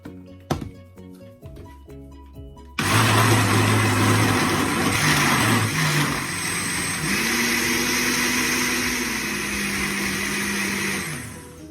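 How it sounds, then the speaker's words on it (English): A blender starts up loudly after a few clattering knocks, then runs with a steady motor whine that shifts pitch as the pineapple juice mixture churns, winding down at the end. "now I'm going to start the blend"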